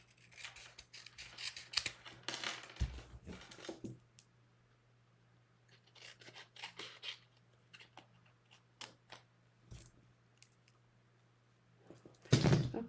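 Scissors trimming cardstock in a papercraft session, several quick crisp snips and rustling cuts spread across the clip, close and fairly quiet, with a loud clatter at the end and no talking.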